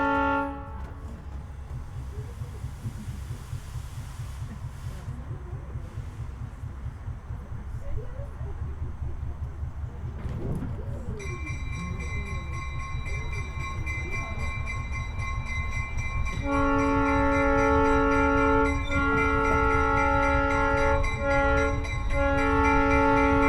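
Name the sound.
train departing the station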